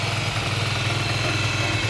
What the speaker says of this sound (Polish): Mój motocykl się już grzeje.